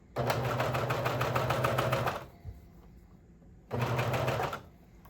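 A cover stitch sewing machine topstitches a swimwear hem in two bursts, a long run of rapid, even needle chatter, a pause, then a shorter run, heard up close with no voices.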